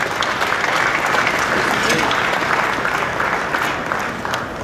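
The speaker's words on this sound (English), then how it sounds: "Round of applause for these guys." Crowd applause at an auto trade show press conference, a dense, even wash of clapping that holds steady and fades slightly toward the end, with faint voices mixed in.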